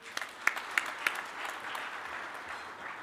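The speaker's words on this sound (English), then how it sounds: "a round of applause" Applause from the audience at a university vice-chancellor installation ceremony, following a performance by the TUT choir; a few sharp claps stand out early, then a steady, fairly faint patter of many hands fills the remaining seconds.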